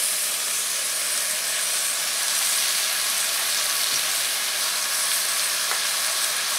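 Chopped tomato goes into a pan of onion frying until translucent, and a steady, even sizzle and hiss carries on without a break.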